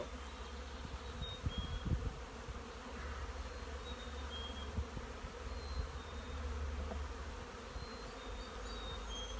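Honey bees hum steadily around an open hive frame of a queen castle start-up, a soft continuous buzz with occasional light bumps and no speech.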